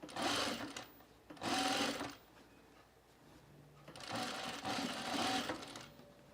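Sewing machine running in bursts while stitching curved seams on a small cropped jacket, two longer rattling runs separated by quiet pauses, close and clear.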